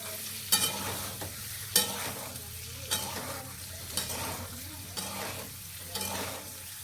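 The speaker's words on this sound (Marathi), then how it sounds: "अंडे चांगले अंड्याला अधूनमधून फिरवत राहा." Boiled eggs frying in a pan for a spicy egg curry, a continuous sizzle broken about once a second by scraping knocks as the eggs are turned; no voices.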